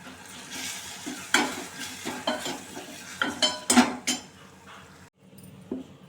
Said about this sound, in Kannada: ನಾನು ಈ ಪಾತ್ರೆಯಲ್ಲಿ ಒಗ್ಗರಣೆ ಮಾಡ್ತಾ ಇದ್ದೀನಿ